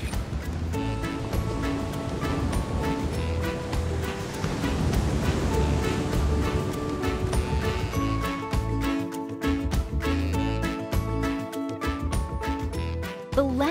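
Ocean waves and water wash continuously as a paddle pushes through the sea, a broad steady rush with wind, fairly loud and close, with no talking.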